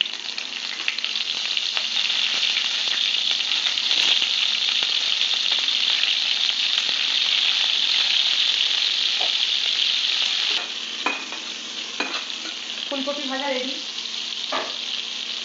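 Cauliflower florets frying in hot oil in a pan during winter cooking of a rohu fish curry, a loud steady crackling sizzle that lasts throughout, easing slightly near the end with a few clinks of stirring.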